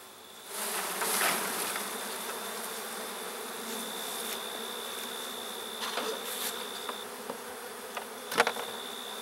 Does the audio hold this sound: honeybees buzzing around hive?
yes